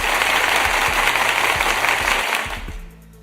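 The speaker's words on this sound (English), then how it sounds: "Let me clap again." A fast, dense run of hand clapping holds at a steady loud level, then thins and fades away near the end.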